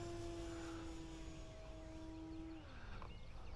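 A Turbo Timber RC plane makes a low pass, its steady propeller drone holding a constant pitch and then dropping as it goes by and moves away, with no talking.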